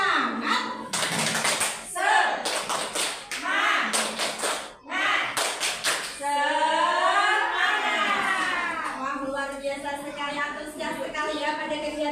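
A group at a school training session claps in quick rhythmic bursts and then chants and sings together in unison, voices dominating the second half as the clapping fades.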